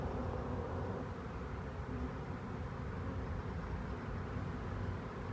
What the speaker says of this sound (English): I've got a handful of them. Handful of bees.